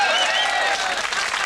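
A television studio audience breaks into applause, a bright, dense burst of many hands clapping together, loud and close, lasting only a moment.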